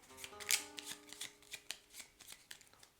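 Playing cards for the Tokaido board game being shuffled, a quick riffle followed by a series of soft, close flicking and tapping sounds.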